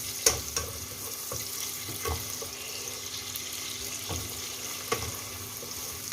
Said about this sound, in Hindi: अनियन इस तरह सौते हो जाएगी।